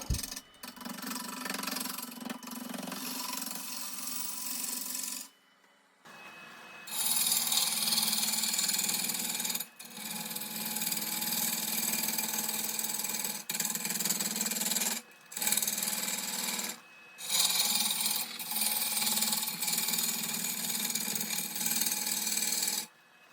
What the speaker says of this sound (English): I'm roughing it out much the same way as I would a bowl because it is side grain